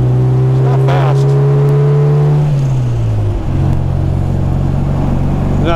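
A 1972 MG MGB with tuned carburetors drives at high altitude on mountain roads, its engine droning loud and close in a steady tone that drops in pitch partway through, like an upshift.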